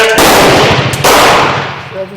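A Remington rolling block carbine in 7x57, the Uruguayan model, fires with loud, sharp, close-range blasts, one shortly after another, each leaving a ringing echo that decays over the next second.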